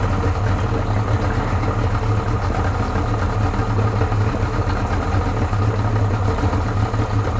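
A Yamaha 60 outboard motor idles steadily at about 700 rpm, a continuous low droning hum with an even, unbroken level throughout and no talking.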